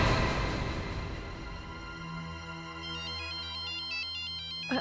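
A mobile phone ringtone plays as a steady electronic melody with sustained tones, shifting into a bright repeating pattern of chiming notes, loud and close with no talking.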